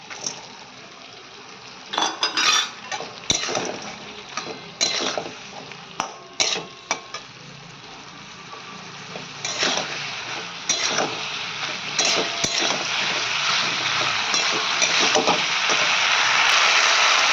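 Pieces of chicken drop into a pan of softened cooked onions for chilli chicken, giving a steady frying sizzle with a run of clattering stirs and scrapes, then the hiss swells louder toward the end.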